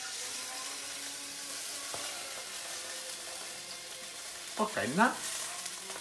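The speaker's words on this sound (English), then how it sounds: "we make a little color both sides of the sausage" Hot sausage browning in a pan on a lit stove, giving off a steady low sizzle throughout, with someone briefly speaking near the end.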